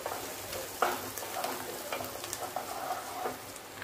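Coconut masala paste roasting in oil over a low flame, a soft steady sizzle with faint crackles and occasional light scraping of a spoon, quiet and close.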